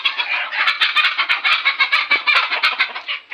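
Free-range desi chickens in a netted enclosure cluck continuously and close by, a dense run of rapid, overlapping clucks with sharp pulses throughout.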